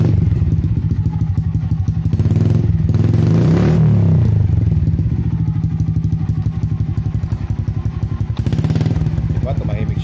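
A motorcycle with an open pipe exhaust fitted with an improvised silencer plug idles with a close, rapid, thumping putter and a couple of louder revs, the beat loud and continuous throughout.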